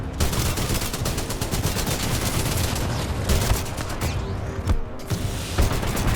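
Sustained automatic machine gun fire in Titanfall 2, a dense rapid burst stream running loud and continuous throughout with a few heavier booms mixed in.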